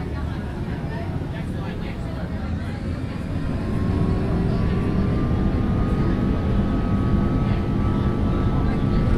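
A Delta Airbus A330-200 jet rolls down the runway for takeoff, a loud steady engine roar heard from inside the cabin that swells partway through and holds as a broad continuous rumble with a faint rising whine.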